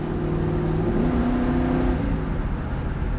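A small block 327 V8 in an unrestored 1967 Chevrolet Camaro RS revs up loudly and steadily, engine pitch rising and holding for about two seconds before easing off, with no talking.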